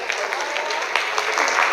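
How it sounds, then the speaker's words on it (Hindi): Audience applause at a Hindi business plan presentation, a bright, fairly loud patter of many hands clapping with a few sharper individual claps and faint voices mixed in. "इनके लिए भी जोरदार ताली होनी चाहिए"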